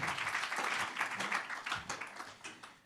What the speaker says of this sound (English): I hope you guys can clap better than that